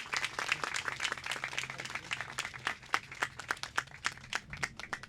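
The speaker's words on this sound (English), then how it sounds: "Everyone, please give Senator Durbin a round of applause" Scattered audience clapping for Senator Durbin at a ribbon cutting for a heritage park and creek, a ragged spread of individual claps, fairly close and moderately loud, thinning toward the end.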